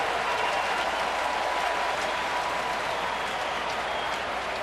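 A sellout crowd at Chase Field applauds during a playoff baseball game, dense steady clapping and cheering from a large stadium audience, sustained and moderately loud throughout.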